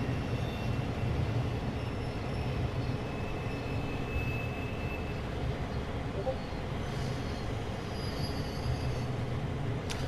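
CSX spine wagons of a passing freight train in Train Sim World roll by with a steady low rumble of wheels and clatter, a faint high squeal drifting above, continuous and moderately loud throughout.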